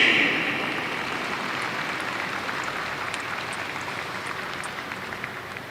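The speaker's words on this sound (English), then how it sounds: "how about a huge round of applause for the Power Showcase High School American League team" Dinner audience applauding a high school American League baseball team at a showcase welcome dinner, a steady broadband wash of clapping that starts loud and tapers slightly over several seconds.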